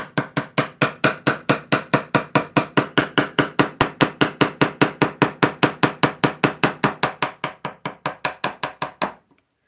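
Wood being carved by hand as a cut is deepened pass after pass, heard as a fast, steady run of about forty sharp, close taps that stop abruptly near the end, with no talking.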